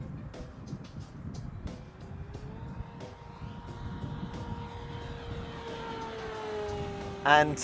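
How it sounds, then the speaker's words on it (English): A foam RC Grumman F6F Hellcat electric plane makes a full-power pass into the wind, its motor a thin, steady drone rising slightly in pitch as it goes by over outdoor wind noise, with a brief word spoken near the start. "So first of all, I'm going to give you a full power pass into wind."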